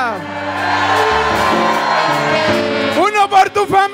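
Church congregation at a prophetic ministry service lets out loud collective shouts and whoops, a dense roar of voices under music. Sharper, broken bursts of yelling and singing voices follow near the end.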